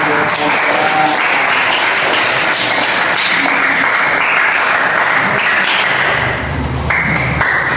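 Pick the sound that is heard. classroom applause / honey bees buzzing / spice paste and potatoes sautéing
classroom applause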